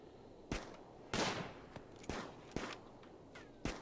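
A colonist fires a gun in Rimworld: about seven sharp, separate shots come at an uneven pace, each a crisp crack with a short tail over a quiet background.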